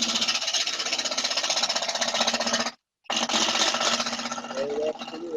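Woodturning gouge riding the bevel as it cuts a three-sided tri-wing bowl on a lathe, a steady loud scraping hiss that runs continuously, breaks off briefly for a moment, then resumes.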